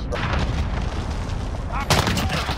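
An artillery strike called in during a Modern Warfare match, with a dense, roaring barrage of blasts that swells into a heavier burst of impacts toward the end.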